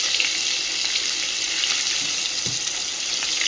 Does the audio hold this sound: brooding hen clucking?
no